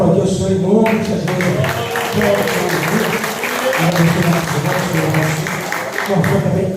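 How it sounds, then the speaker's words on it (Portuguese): A church congregation at a family service claps and applauds together, a steady wash of clapping that runs the whole time under voices and a rhythmic beat. "Bora aplaudir o Senhor em nome de Jesus."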